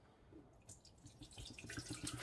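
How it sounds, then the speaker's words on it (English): Bottled water, a 16.9-ounce bottle, pours into a glass jar for homemade kombucha, a steady trickling splash that builds and grows brighter as the jar fills, close and moderately loud with no talking. "Let's get some water in here."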